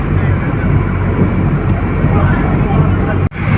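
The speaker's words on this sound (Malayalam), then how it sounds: "വലിയൊരു ഫിഷിംഗ് ബോട്ട് പോകുന്നു കേട്ടോ." A large fishing boat passes on a Kollam backwater, its engine a loud, steady low rumble mixed with wind buffeting, cut off abruptly near the end.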